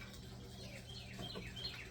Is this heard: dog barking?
no